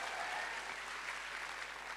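An audience claps at a network marketing event, a faint, steady patter of applause lasting a couple of seconds with no voices over it.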